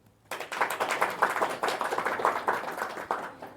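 An audience claps steadily and loudly at a spiritual talk, a dense wash of many hands that starts abruptly and carries on without pause.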